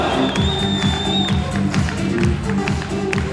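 Wedding guests at a celebration in Ternopil make a continuous, loud crowd din of clapping, shouts and a high whistle, with music underneath throughout.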